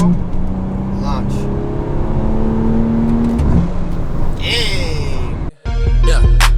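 BMW B58 engine launching with rolling anti-lag, a loud steady engine drone building before a sharp pop and cut, then a harsh burst of revving and crackle, with voices present.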